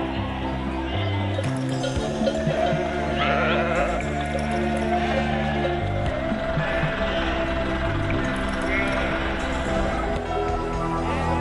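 A flock of sheep bleats continuously as it moves through narrow town passages barely three metres wide, with many overlapping calls, some nearby, over a steady busy background and occasional hoof clatter.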